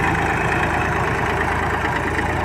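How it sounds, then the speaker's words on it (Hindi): A Massey Ferguson 7250 46 HP tractor engine idles with a steady, loud low-pitched chug and even rhythmic pulsing, running close and alone without voices. "गाड़ी का जो इंजन है काफ़ी दमदार है"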